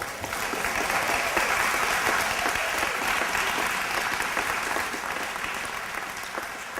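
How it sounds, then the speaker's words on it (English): An audience at an alumni awards ceremony applauds the reunion classes with steady, sustained clapping from a large crowd, full and even before tapering slightly toward the end. "So give the 10th, 30th, and 50th a round of applause, please."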